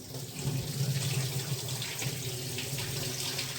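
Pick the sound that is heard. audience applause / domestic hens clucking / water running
water running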